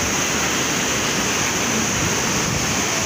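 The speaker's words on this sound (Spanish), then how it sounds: "desde aquí se logra ver la caída de agua" San Pedro waterfall in Atlixco roaring as a steady, dense wash of falling water, loud and unbroken throughout with no voices.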